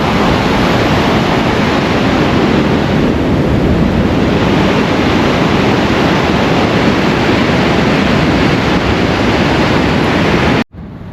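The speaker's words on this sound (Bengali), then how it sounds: "ওইদিকে একটা বাঁধ আছে, পানির বাঁধ। রাত সেজন্য দেখা যাচ্ছে না, শব্দটা হচ্ছে পানির শব্দ।" Water rushes over a dam at night, a loud, steady broadband roar that fills the whole scene without pause.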